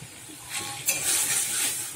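A masala with tomato and green chilli paste sizzles in oil for an egg curry, a brief close frying hiss that swells as the paste is stirred through.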